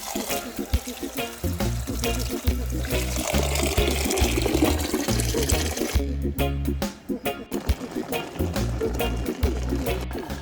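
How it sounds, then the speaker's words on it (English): Running water splashes steadily under a tap as salted cabbage is rinsed, with a low rhythmic hum in the background and brief pauses in the flow. "we're just gonna rinse off the salt water from the cabbage"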